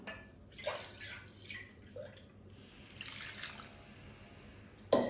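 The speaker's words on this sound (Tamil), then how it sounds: "இதோட கொஞ்சம் தண்ணி ஆட் பண்ணிக்கலாம்." Water splashes into a pot of dal with kidney beans in a few short pours and trickles, fairly quiet, ending with a brief louder clatter.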